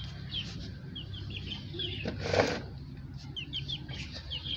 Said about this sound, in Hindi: ये देखे, ये चूजा।